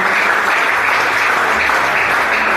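A church congregation claps hands in praise to God, a thick, continuous roar of applause close and loud for a couple of seconds with no clear voices over it.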